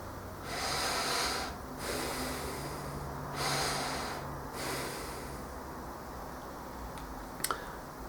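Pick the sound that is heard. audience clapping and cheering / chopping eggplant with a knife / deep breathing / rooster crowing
deep breathing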